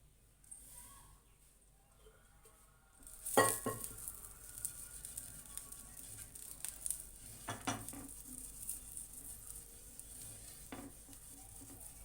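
Dosa batter hits a hot, lightly oiled griddle after a quiet start, followed by a close, bright sizzle with scattered scraping and clinks as it spreads and cooks.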